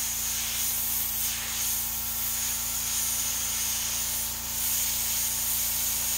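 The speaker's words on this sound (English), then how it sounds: "there's the compressor kicking on" Airbrush compressor running at a T-shirt painting setup, a steady low motor hum with a constant airy hiss, faint and continuous with slight swells, no voices.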